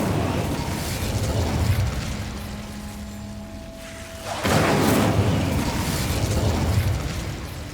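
Incendio fire spell cast in the Hogwarts Legacy video game, a loud whooshing burst of flame that swells, dips briefly, then erupts again in a broad roaring blast.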